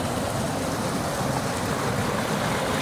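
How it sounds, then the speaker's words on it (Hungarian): The Kisbékás creek rushes and churns steadily below in the Bicaz Gorge, Romania, in winter, a continuous broadband water roar filling the scene with no talking. "És alattunk zubog a kisbékás patak."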